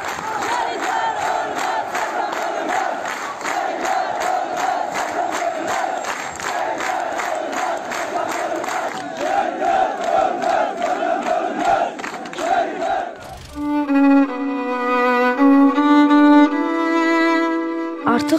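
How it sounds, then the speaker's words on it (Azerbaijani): A large crowd gathered in front of a general's house after news of his death, a dense, loud roar of many voices with rhythmic chanting pulses, followed near the end by music. "Generalın ölümünü eşidən insanların onun yaşadığı evinin qarşısına toplaşmağı və bu izdiham"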